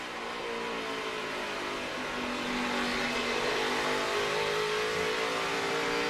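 NASCAR Camping World Truck Series trucks roar steadily toward turn 1, several engines droning and revving together in a loud, continuous, slightly rising pack sound.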